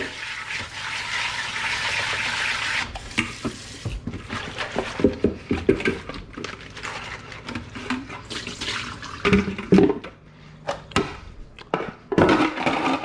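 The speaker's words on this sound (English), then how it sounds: "Use a quick rinse." Romaine lettuce gets a quick rinse under a running tap in a home kitchen: a brief steady rush of water, then clattering leaf handling and splashy knocks nearby.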